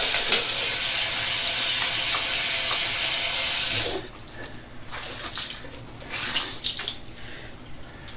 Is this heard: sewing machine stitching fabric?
no